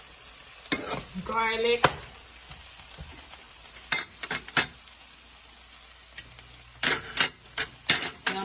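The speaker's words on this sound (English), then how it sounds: "so I'm going to saute that down." Peppers, onion, scallion and garlic sautéing in a pan for Jamaican Ital pasta: a low sizzle under repeated sharp scrapes and clatters of a utensil stirring, with a brief spoken word near the start.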